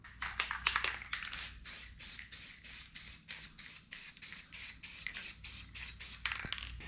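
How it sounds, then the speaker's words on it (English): Short repeated bursts of Loctite multi-purpose spray adhesive hiss from an aerosol can in a quick steady rhythm, about a dozen close sprays, each a breathy pulse of even loudness with no talking. "now I'm going to be using this Loctite spray adhesive multi-purpose stuff"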